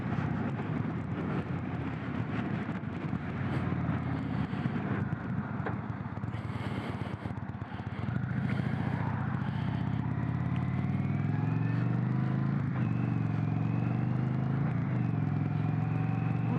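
A 2021 Indian Vintage Dark Horse motorcycle pulls onto a highway, its engine droning steadily and then rising in pitch as it accelerates, with wind noise across the microphone throughout.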